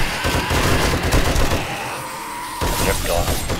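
Rapid gunfire during a zombie horde night in Darkness Falls, a 7 Days to Die mod, with dense overlapping shots and bursts at close range, continuing steadily with a brief lull partway through.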